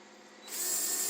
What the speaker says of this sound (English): I'm gonna drill it with this.